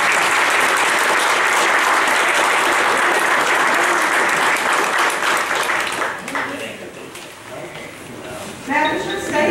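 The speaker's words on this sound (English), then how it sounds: "Let's give Sarah another big round of applause." A big round of applause for Sarah at a county fiscal court meeting, loud sustained clapping from the room that fades after several seconds as a voice begins speaking.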